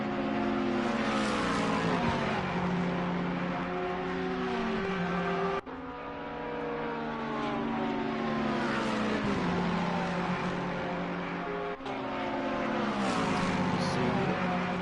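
Race cars in Assetto Corsa Competizione on PS4 roar loudly and continuously, engines climbing through the revs with pitch sweeps and two sharp gear shifts, with commentary under the engine noise.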